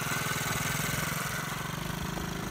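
Small pit bike engine running at close range, a rough, buzzy mid-pitched drone with a rapid pulsing beat that shifts slightly as it is downshifted.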